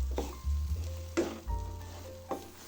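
A peanut and milk dessert is stirred steadily in a pan over the flame, with a soft continuous sizzle and a few louder scrapes of the spoon against the pan, close up and with no speech.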